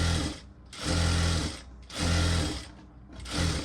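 A sewing machine stitches a blouse in steady bursts: four loud runs of rapid mechanical whirring, each lasting about a second, separated by brief pauses.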